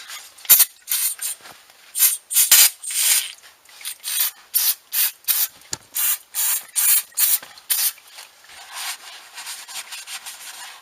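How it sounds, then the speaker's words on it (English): Brake cleaner sprayed in repeated short hissing bursts onto transfer case drain plugs from a Ford F-150 4x4, close and loud, with brief pauses between squirts. "we're gonna clean both plugs with a brake cleaner"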